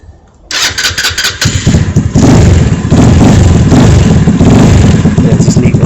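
A 2021 Vitacci 150cc scooter engine cranks with a few sputtering turns, catches, and settles into a loud, steady running idle close to the listener.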